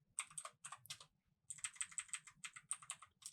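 Someone types HTML tags on a computer keyboard: close, crisp clusters of rapid keystrokes, a short pause, then another quick run of typing.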